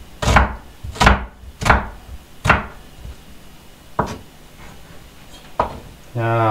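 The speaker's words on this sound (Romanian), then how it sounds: "Ceapa o tăiem cu bulețe mărunte." A knife chopping onion finely on a board in a home kitchen: about seven sharp, loud, close knocks at an uneven steady pace, with a brief voice at the end.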